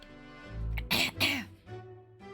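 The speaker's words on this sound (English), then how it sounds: "Sorry about that. I had to clear my throat." A single person clears their throat in a couple of rough, gravelly bursts, close and fairly loud, bracketed by brief voiced hums before and after.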